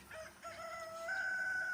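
A young rooster crows nearby, one rising, strained call held to the end, faint against quiet farmyard background.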